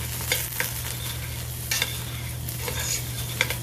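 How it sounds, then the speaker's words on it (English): Eggplant pieces frying in a pan are stirred, giving a steady close sizzle with several scraping strokes from the utensil, for ratatouille. There are no voices, and a constant low hum sits underneath. "give yourself a good stir."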